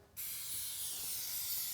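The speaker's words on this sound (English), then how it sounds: "Whenever spraying, just hold the can about 8 to 10 inches from the surface." A Dupli-Color aerosol spray paint can starts spraying after a brief pause, then gives a steady, close, loud hiss that holds without a break, with no voices.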